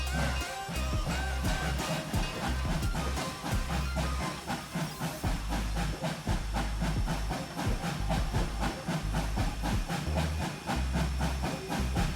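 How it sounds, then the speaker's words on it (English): Brake squeal from a freight train in Trainz 2019 on a curve on the Brighton Branch, carried within a steady steamy hiss and rumble, with faint high squealing tones running through the rolling, continuous noise. "If you're hearing the brake squeal there"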